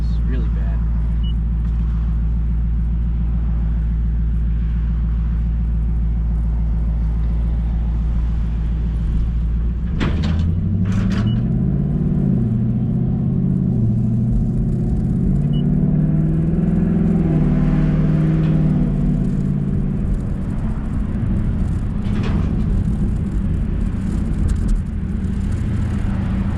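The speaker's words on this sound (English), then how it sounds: "Much better sound than what the factory active exhaust." A 2019 Ford Mustang GT with a Hellion twin turbo kit and aftermarket exhaust, in cold weather, idles with a steady deep rumble, then revs up partway through and holds a louder, rising drone.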